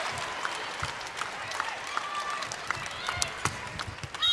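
A large home crowd at a Nebraska women's volleyball match against Kentucky breaks into loud, sustained applause and cheering that fills the arena, with a commentator's voice running underneath.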